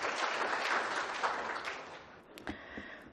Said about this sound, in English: So I think that deserves a round of applause for EAC.